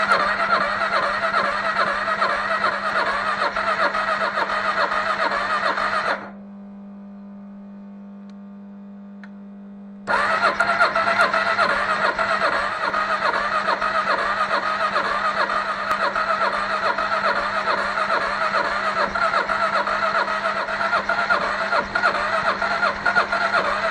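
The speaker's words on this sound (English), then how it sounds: "I will turn on the ignition, hold the choke, we'll try to start it." A neglected Kawasaki KLR 650 motorcycle cranks on the starter with choke held, a loud, steady rhythmic churning that runs for several seconds, stops briefly, then resumes without catching.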